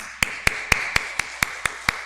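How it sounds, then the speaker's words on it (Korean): A congregation at a Korean church Sunday afternoon worship service claps together in a steady, even beat of eight sharp claps, with a faint sustained hum under them and no talking. "우리 모두를 위해서 열심히 하겠습니다라는 마음으로 우리 박수 한번 칠까요?"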